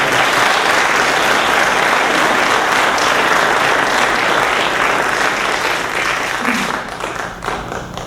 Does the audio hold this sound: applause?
yes